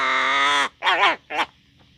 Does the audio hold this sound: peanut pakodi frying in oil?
no